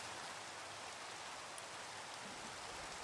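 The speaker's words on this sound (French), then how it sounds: "On va aller passer cette pluie, parce que non merci" Steady hiss of rain in the Minecraft world, falling evenly and continuously without pause, with no other sounds on top.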